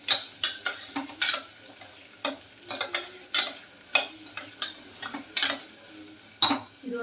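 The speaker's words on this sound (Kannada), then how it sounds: "ಬೀನ್ಸು, ಹಾಗೆ ಆಲೂಗಡ್ಡೆ ಹಾಕಿದ್ರೆ ನೀಟಾಗಿ ಒಂದೆಲ್ಲ ಫ್ರೈ ಮಾಡಬೇಕು" Beans and potatoes being stir-fried in a pan, a utensil scraping and clinking against the metal in irregular bursts over a quiet sizzle, close and distinct.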